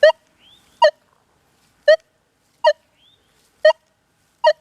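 A metal detector sounds six sharp, short target tones at roughly even intervals, each a clear, loud chirp with silence between and faint softer warbles in two of the gaps.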